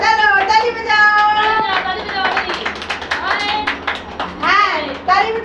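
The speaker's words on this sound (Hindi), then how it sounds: "चलो ताली बजाओ" A group of children claps hands during a circle game, with quick, uneven bursts of claps mixed with lively singing and shouting voices close by.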